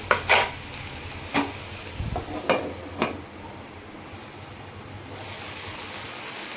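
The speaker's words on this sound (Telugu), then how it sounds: "ఇప్పుడు ఇవన్నీ బాగా కలుపుకొని ఇవి మగ్గే వరకు కొంచెం సేపు ఉడకనిద్దామండి" A spoon stirs an ivy gourd chutney mixture cooking in a pan, with several sharp scraping clanks against the metal early on, then a softer steady sizzle with no talk.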